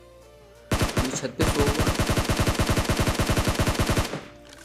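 Automatic gunfire from a battle in PUBG Mobile bursts loud and close: a short volley, a brief pause, then a long rapid string of evenly spaced shots, with a voice speaking briefly at the start.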